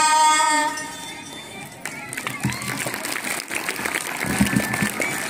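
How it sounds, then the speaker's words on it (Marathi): Applause after a school student's bharud folk performance. A sung line ends, then a hall of clapping hands rises and carries on as a loose, moderately loud patter with crowd murmur and some voices mixed in. "भारुडासाठी जोरदार टाळ्या व्हायला हव्यात"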